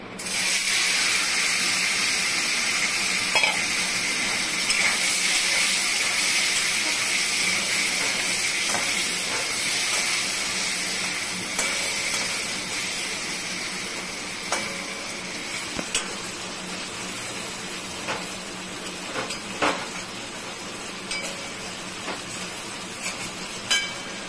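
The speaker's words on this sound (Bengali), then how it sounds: "পনিরটা এখন আমি ভেজে নিব" Paneer frying in refined oil in a pan, a steady broadband hiss and sizzle running throughout with scattered small crackles and pops, fairly close and continuous with no talk.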